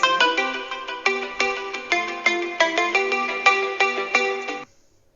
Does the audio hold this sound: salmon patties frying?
no